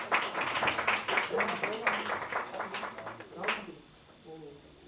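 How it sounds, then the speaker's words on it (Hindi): Applause from an audience for a prize winner at a student poetry competition: a crowd claps in a dense burst that fades out, with a voice speaking over it. "जोरदार तालियां उनके लिए भी."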